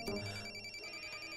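A mobile phone ringing with a steady, thin electronic tone, sounding faint and slightly distant, with no voices heard.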